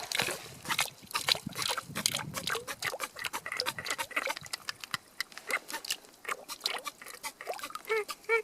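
Water pumped through an MSR hand pump filter into bottles outdoors at a camp, a run of quick wet squirts and trickles with rhythmic pumping clicks, close and fairly quiet.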